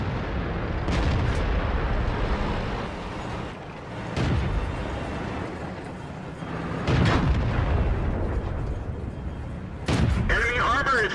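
Heavy tank cannon shots and booming hits in World of Tanks, played with a T1 Heavy, land in several separated loud blasts over a rumbling battle bed, with talk heard between them.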